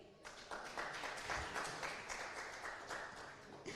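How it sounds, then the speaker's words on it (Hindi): Applause from a conference audience in Faridabad as doctors are welcomed onto the stage, a fairly faint steady patter of many hands clapping, with some voices mixed in. "तालियां बजाइए।"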